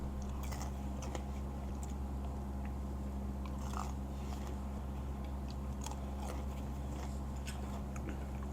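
Someone biting and chewing a crunchy, cracker-thin pizza crust, soft scattered crunches over a steady low background hum, close but quiet.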